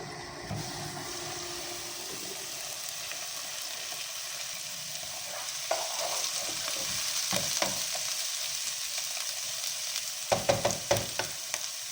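Onions sizzle steadily in a hot, lidded pot as they fry until pink, for a Turkish spinach and egg dish, with occasional scraping and clinking as they are stirred, growing a bit busier toward the end.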